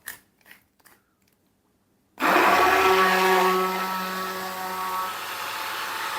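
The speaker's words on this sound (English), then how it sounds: "when you're using an immersion blender, don't lift it too high when you've got it turned on" Immersion blender whirring through courgette quiche filling with salt and black pepper, starting abruptly after a few soft knocks and running loud and steady with a sustained motor hum.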